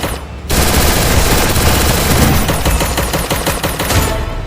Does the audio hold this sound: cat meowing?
no